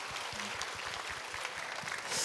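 A conference audience applauds in a hall for a short burst of just over two seconds. The clapping is a dense, even patter that sounds soft and somewhat distant, with no voices over it.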